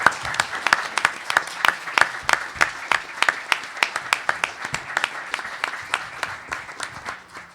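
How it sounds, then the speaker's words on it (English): Audience at a sports and society panel on paying athletes claps for the panelists, a fairly small crowd producing sharp, distinct claps in a brisk, sustained rhythm, close and steady throughout. "Can we give all of our panelists a big round of applause?"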